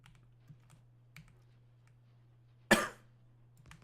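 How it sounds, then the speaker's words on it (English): A single phlegmy, congested cough bursts out loud and close near the end, after faint clicks and a steady low hum, with no talking. "I just have phlegm coughs."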